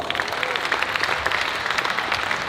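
A comedy-roast audience for the Jersey City mayor claps hands, producing a dense, steady burst of applause throughout, fairly loud and continuous.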